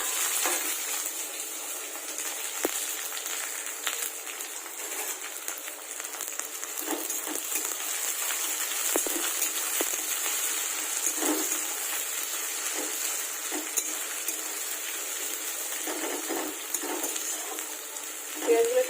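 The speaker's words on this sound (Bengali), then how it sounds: "এবার আমি পেঁয়াজগুলোকে ওর মধ্যে দিয়ে দেবো।" Sliced onions fry in hot oil tempered with cumin seeds and bay leaf, a continuous close sizzle with scattered clicks and scrapes of stirring throughout.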